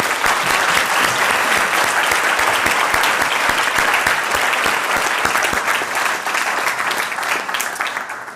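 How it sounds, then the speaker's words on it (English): An audience at a leadership conference breaks into sustained applause, dense, even clapping that fills the room at steady loudness and begins to thin toward the end. "Let's give them a round of applause first."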